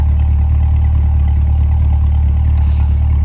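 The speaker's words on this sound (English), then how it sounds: "here's your exhaust at idle" A 2021 Corvette Stingray C8 convertible with the Z51 package idles steadily at the rear, its exhaust giving a deep, even low rumble that holds constant throughout with no revving and no voices.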